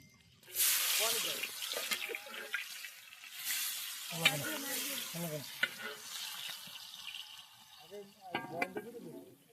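Onions fry for an egg curry at a night picnic, sizzling loudly in hot oil with stirring clatter and a few splashes. People talk over the cooking throughout.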